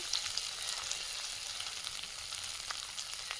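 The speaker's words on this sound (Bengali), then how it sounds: "আদা জিরেটা ভেজে নিয়েছি এর মধ্যে দিয়ে দেব পরিমাণ মতো লবণ পরিমাণ মতো হলুদ গুঁড়ো" Ginger and cumin frying in a pan with spices, giving a faint, steady hiss of sizzling oil with light crackles and a little stirring, close but quiet.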